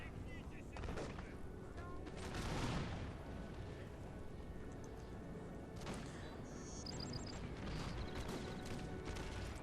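Massed musket volleys in Napoleon Total War crackle and pop in dense, overlapping bursts at a moderate distance, with a heavier thump near the start and someone talking over the battle noise.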